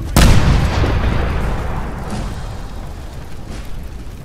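A big gun fires in Fallout 4: one loud, sharp blast at the start booms out, then a long rolling reverberant tail fades slowly over several seconds.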